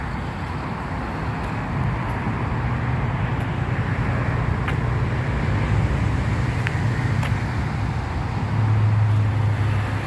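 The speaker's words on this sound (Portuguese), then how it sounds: "ele fica com um barulho bem grande por causa da marginal, do trânsito" Heavy traffic on the Marginal highway in São Paulo makes a continuous low roar and rumble with faint passing-vehicle swells, steady and somewhat distant, without speech.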